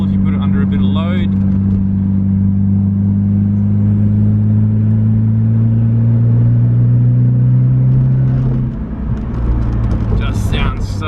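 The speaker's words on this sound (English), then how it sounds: "has a nice little turbo spool if you put it under a bit of load" A Nissan R32 GT-R turbocharged engine drones steadily under load with a rising turbo spool and rumble, then eases off; a person talks over it toward the end.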